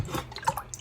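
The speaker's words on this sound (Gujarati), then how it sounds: "તો હવે આપણે આને કાઢી લેશું અને એક સાફ તાજા પાણીમાં આપણે એને ધોઈ લેશું" Short, quiet drips and small splashes as a metal puja diya is rinsed in a bowl of fresh water, close and brief with no talking.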